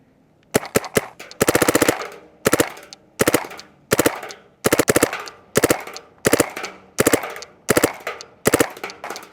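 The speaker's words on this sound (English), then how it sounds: "let's go ahead and flip it over to our 3-shot burst that we've set up on here" An Empire D*Fender Elite paintball marker fires a rapid series of sharp, loud pops, mostly grouped in quick three-shot bursts with short gaps between them.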